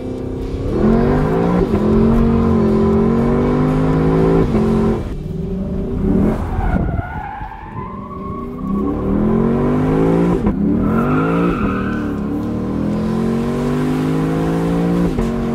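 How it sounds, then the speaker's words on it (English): A naturally aspirated V8 in a Lexus LC 500 revs hard and loud, its pitch climbing and dropping through quick upshifts, with a brief lift and lull before the engine pulls strongly again; no one talks. "not only does that engine have so much character, that gearbox is lightning fast"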